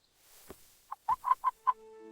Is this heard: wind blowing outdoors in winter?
no